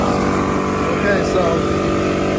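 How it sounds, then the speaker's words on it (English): A pancake air compressor runs off a Predator generator, giving a loud, steady mechanical drone with a constant motor hum throughout. "so the compressor's turned on."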